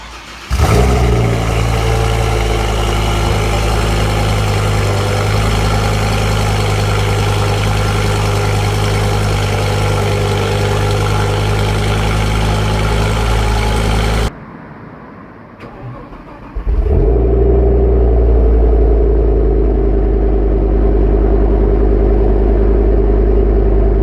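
Audi RS6 C6 with its 580-horsepower, four-valve-per-cylinder V10 from 2005, starting up and idling with a deep steady rumble, briefly dropping off before surging back in a loud, sustained rev close to the microphone.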